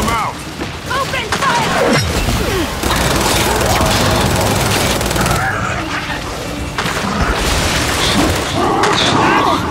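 Heavy Gears of War 5 combat: booming explosions and rapid gunfire pound almost nonstop, loud and close, with voices shouting beneath the din.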